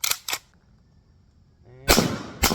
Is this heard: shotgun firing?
yes